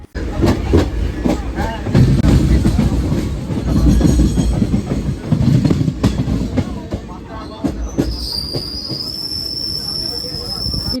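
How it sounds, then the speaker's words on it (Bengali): A train rumbles heavily along the rails, wheels clattering, then a high metallic squeal rings out as it slows; loud and close. "ওয়ান ফিফটিতে ট্রেন ঢুকলো"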